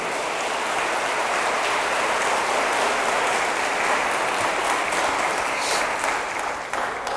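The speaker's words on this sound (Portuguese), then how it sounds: "dê um forte aplauso ao Senhor nessa noite" A church congregation at an evening celebration service claps loudly and steadily for several seconds, a dense rain-like wash of many hands that tapers slightly at the end.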